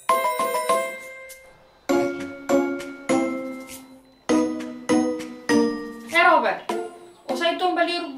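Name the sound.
phone ringtone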